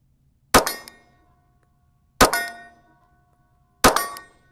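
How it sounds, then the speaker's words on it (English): Three pistol shots from a Zulisy Z1-R ring off steel targets 25 yards out, each a sharp loud clang with a ringing decay, spaced evenly about 1.6 seconds apart. "3 shots on steel, 25 yards out"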